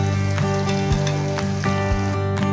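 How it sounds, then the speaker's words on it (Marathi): Ginger, garlic and coriander paste fries in oil for a spicy mutton curry, a loud close sizzle with several sharp clinks of a utensil stirring against the pan. "अद्रक लसूण आणि कोथिंबीर पेस्ट टाकली आपण. त्याला छान भाजून घेऊया."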